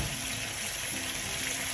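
Water is poured into a garlic sauce for baked zucchini, a faint steady splashing trickle that continues evenly under a soft hiss, with no talk.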